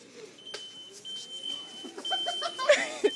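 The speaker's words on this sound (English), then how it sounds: "It's like the beeping noises." Scattered soft electronic beeps and a thin steady tone sound faintly amid quiet background rustling inside a Walmart store, with a few brighter chirps toward the end.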